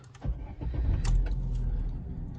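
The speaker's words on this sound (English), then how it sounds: "I'm going to start the car up." A Vauxhall Zafira 1.8 16V Exclusiv with 53,083 miles cranks briefly and fires into a steady idle, preceded by faint key clicks, close up with no talking.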